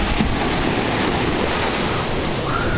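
Ocean surf rolls in steadily at a pier where surfers are out, a dense continuous wash of breaking waves with some wind rumble across the microphone and no voices.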